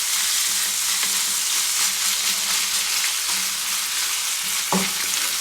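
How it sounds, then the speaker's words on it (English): Butter sizzles and crackles steadily in a hot pan as it browns with green beans and almonds, a constant bright hiss with an occasional faint clink of a utensil. "just by the nature of the butter itself as it sizzles"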